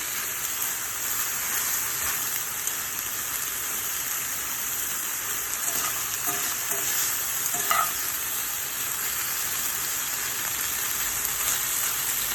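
Korean bulgogi beef cooking in a hot pan to build a char, giving a steady, dense sizzle with a crackling, rain-like texture throughout and occasional faint stirring scrapes, close and unbroken with no talking.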